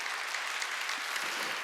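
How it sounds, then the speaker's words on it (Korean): Congregation clapping hard during a Wednesday church worship service, a steady dense wash of many hands applauding without pause, loud and close throughout. "박수 치려고 세게 치라고."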